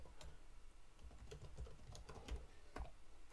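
Quiet, rapid clicking of a computer keyboard as code is typed for a Django project, with irregular bursts of keystrokes and no talking.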